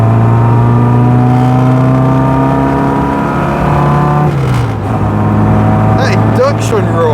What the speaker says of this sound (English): That induction roar.